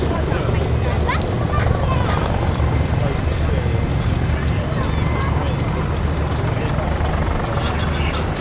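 Royal Navy Lynx and Wildcat helicopters fly a paired airshow display, their steady rotor and engine roar loud and continuous throughout, with a commentator talking over it.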